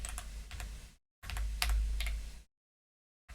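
Bursts of clacky typing on a mechanical keyboard fitted with banana switches, rapid keystrokes in two short runs separated by abrupt silences where a noise gate cuts the sound, close and fairly loud, with no voice.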